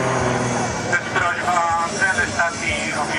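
Propeller airplane engine drone at the Góraszka airfield during an air show, steady and fairly loud across the whole stretch, with a crowd's chatter and a voice mixed in beneath it.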